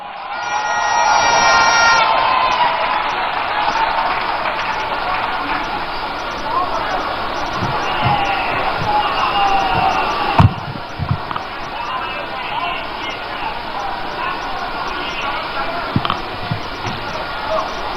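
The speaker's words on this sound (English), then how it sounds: "with a round of applause, welcome to the microphone the Minority Leader, Honorable Dr. Atoforsen." A crowd cheers and applauds at an NDC manifesto launch rally, a loud wash of voices and clapping swelling early, then settling into a sustained murmur with scattered thumps and shouts.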